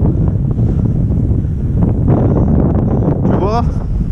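Steady wind rumble buffets the microphone throughout during a mountain bike ride at Lac du Salagou, with a low roar and faint talking underneath.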